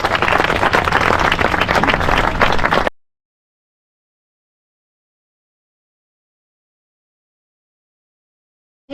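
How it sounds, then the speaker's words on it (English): Parkrun volunteers receive a burst of applause from a crowd outdoors, with dense, steady clapping for about three seconds that then cuts off into silence. "Can we have a big round of applause please for our brilliant team of volunteers"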